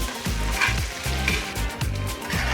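A T-bone steak sizzles steadily inside a GE Profile smart indoor smoker, a bright frying hiss with a rhythmic low mechanical thrum pulsing underneath, close and even throughout with no talking.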